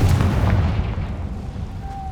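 A Confringo explosion spell goes off in the Hogwarts Legacy video game, a loud booming blast at the start whose low rumble decays over about two seconds, with a faint tonal ring near the end.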